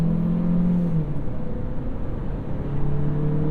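A 2023 Chevrolet Equinox with a 1.5-liter engine accelerating, a steady loud engine drone with rising tonal whine, heard from close by with no talk.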